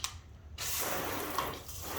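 Water sprays from a hose nozzle onto a waxed car, a steady broadband hiss that starts after a brief pause and carries on evenly at close range.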